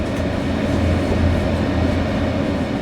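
A train at Maribor station in Slovenia, heading on toward Zagreb in Croatia, gives a loud, steady low rumble throughout without any clear breaks.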